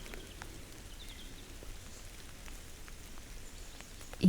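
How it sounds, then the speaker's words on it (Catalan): Very fine, light rain falls softly outdoors on a cool morning, a faint, even patter with scattered tiny drop ticks and no voices. "I està començant a ploure, una pluja molt fina."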